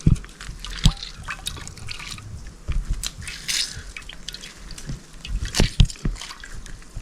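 Rich fresh coconut milk poured outdoors for Jamaican saltfish run down, an irregular splashing trickle with drips and sloshes, close and fairly loud, with no talking.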